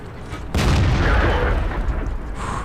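A heavy boom from a T-150 tank's main gun in World of Tanks hits hard and loud, then rumbles on with sustained low noise and battle din.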